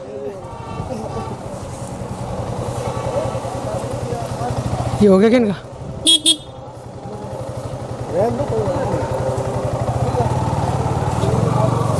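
A Yamaha MT15 motorcycle idles with a steady low, throbbing engine note on a long road trip to Delhi, running close by beneath Hindi conversation.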